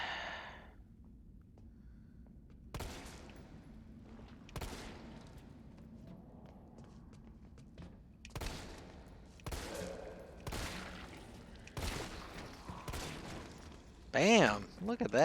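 Scattered gunshots from Resident Evil 3 Remake, about half a dozen sharp cracks spaced a second or two apart over quiet game ambience, ending in a louder burst near the close.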